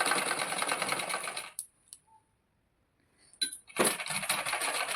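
A sewing machine stitches tucks into blouse fabric, racing in a loud, close whir. It stops for a nearly silent pause of about two seconds, then starts stitching again.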